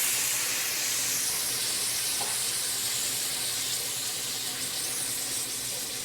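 Marinated margarita shrimp sizzle on a hot grill, a steady, loud, bright hiss that holds evenly throughout with no pauses and no talking.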